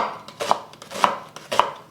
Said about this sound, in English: We're using half an onion, and I'm just gonna slice it up.